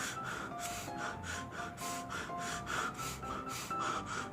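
A singer demonstrates noisy, high chest breathing with raised shoulders: a steady run of rough, hissing inhales and exhales in a regular rhythm, close and fairly quiet, with no talking.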